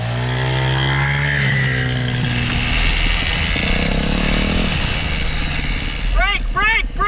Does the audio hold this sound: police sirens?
no